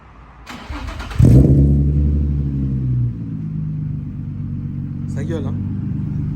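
A modified car engine cranking and firing up with a loud bark, then settling into a deep rumbling idle that drops back after a few seconds, close by, with someone speaking over it near the end.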